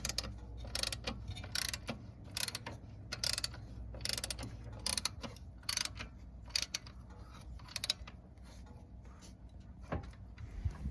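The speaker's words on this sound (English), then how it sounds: "So I've got my 9/16 socket on here. Look at how many turns it takes to tighten this thing down." A ratchet wrench fitted with a 9/16 socket works a bolt on an 1987 Plymouth Gran Fury, repeated short bursts of rapid clicking in an uneven back-and-forth rhythm, close and fairly quiet, over a low background hum.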